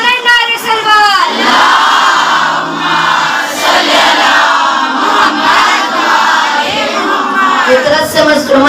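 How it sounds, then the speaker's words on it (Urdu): A majlis crowd loudly chants salawat in unison, a sustained mass of voices rolling on for several seconds, close and full, with a brief solo voice leading in at the start. "بلند نعرے سلوات"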